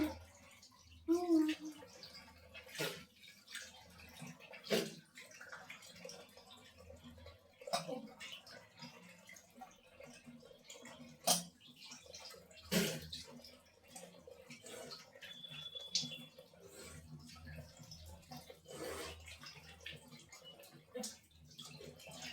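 Water splashing and dripping as a face is washed under running water in the morning, with intermittent splashes and drips over a quiet background and some faint voice.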